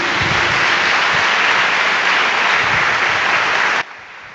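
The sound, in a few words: congregation applause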